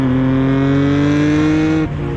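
Nissan Skyline R34 GTR V-Spec 2 in Bayside Blue, its engine holding a loud, steady high-rev drone with rich harmonic tone, then dipping slightly as revs drop near the end.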